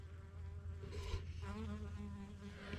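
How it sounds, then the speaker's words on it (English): Honeybees and bumblebees buzzing around garden flowers, a close, steady droning hum with wingbeat pitch shifting as insects fly past, heard alone with no voices. "there's honeybees and bumblebees all over them"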